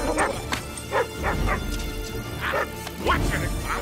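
Several dogs barking and yipping in short bursts in a film scene, mixed with background music and voices, moderately loud throughout.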